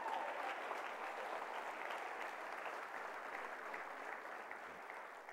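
A church congregation claps together in steady, even applause that sounds faint and distant, holding a uniform patter for several seconds and tapering only slightly.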